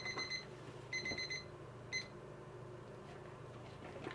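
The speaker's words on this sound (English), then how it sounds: "As you can hear, we've hit our 165 temperature on our digital thermometer." A digital thermometer in an oven-bag turkey breast beeps on reaching 165 degrees, in quick high-pitched bursts: two short groups, then a single beep, faint against a quiet background.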